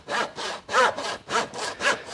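A hand saw cuts through a lamb carcass during a whole-lamb butchery breakdown, with about seven steady push-and-pull strokes in an even rhythm, close but fairly soft, with no talking.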